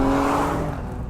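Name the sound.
Alfa Romeo Stelvio Quadrifoglio engine revving through gears in race mode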